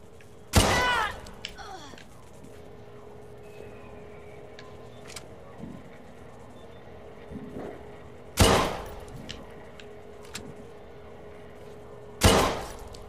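Three sharp gunshots ring out in the video game Watch Dogs 2, loud and widely spaced against a quiet game background with faint scattered effects between them.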